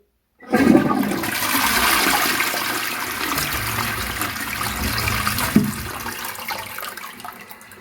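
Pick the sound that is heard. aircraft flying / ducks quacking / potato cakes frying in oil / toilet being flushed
toilet being flushed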